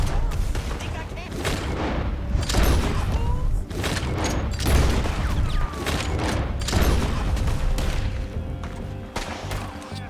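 Gunfire in the video game Red Dead Redemption 2: a rapid series of loud, sharp shots and booming cracks, fired close by in irregular bursts throughout, with a few mechanical clacks between them.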